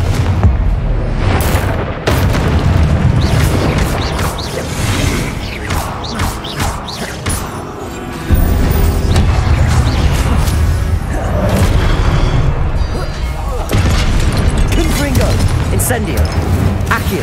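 A Confringo explosive fire spell blast in Hogwarts Legacy lands amid dense, loud game combat, with heavy booming impacts and crashes piling up over a constant rumble as a voice calls out over the noise.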